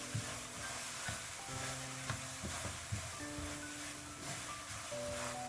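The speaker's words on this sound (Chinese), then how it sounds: "继续用铲子翻炒均匀" Apple filling thickened with starch slurry is turned in a pan with a spatula: a quiet, steady sizzle broken by soft, irregular scrapes and taps.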